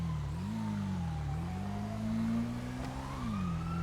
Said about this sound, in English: Don't like how loud that siren is.